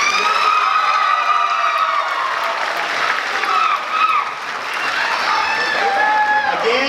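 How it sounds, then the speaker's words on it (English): Audience at a 2018 English language learner debate applauding after closing remarks, a sustained dense wash of clapping with cheering voices that runs steadily throughout, dipping briefly midway before swelling again. "Let's give them all one more big round of applause"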